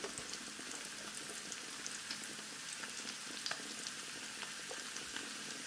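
Slices of raw banana deep-fry in hot oil for Kerala-style chips, giving a steady, dense crackling sizzle with scattered sharper pops and no talking.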